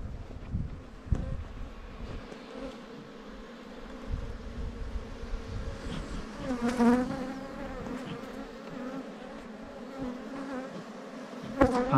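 Honeybees buzz around a beehive outdoors, a continuous droning hum with louder passes as individual bees fly close, light wind noise in the background, no speech.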